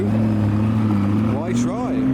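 McLaren P1 supercars pass nearby, a steady engine drone with a rising, shifting tone near the end, while people talk over it.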